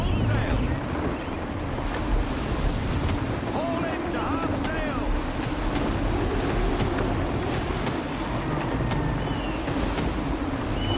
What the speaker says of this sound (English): We're fighting the wind, Connor.